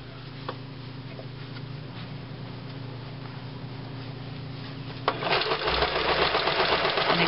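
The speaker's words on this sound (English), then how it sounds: "We're going to start sewing again, and I'm going to walk this for the first stitch." A sewing machine stitches fabric along piping on a cushion cover, first humming quietly with a few soft ticks, then starting into a loud, fast, steady run of stitching about five seconds in.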